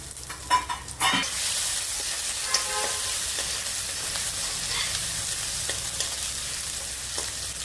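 Chili and ginger paste hits hot oil in a pan, giving a loud burst of sizzling that settles into a steady, bright frying hiss, with a few clinks of the spoon early on.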